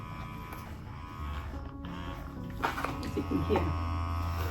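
An electric massager vibrates with a steady low buzzing hum that runs throughout, while a person speaks briefly over it.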